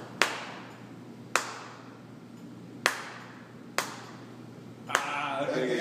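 Hands clap a syncopated rhythm in a music lesson, five sharp, close claps at uneven intervals; a voice starts to talk just after the last one.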